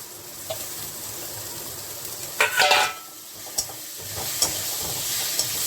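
A tomato dropped into a hot pan with oil and bay leaves while cooking khichuri, a soft steady sizzle that flares into a brief louder hiss midway, with a few light clicks. No one speaks.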